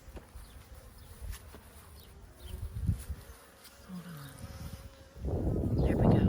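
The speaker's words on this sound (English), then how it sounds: "I noticed the bees were out and about today" Honeybees buzz around a backyard hive in Ohio as they fly in carrying pollen, a close, wavering drone that swells loud near the end, with a few faint noises in the background.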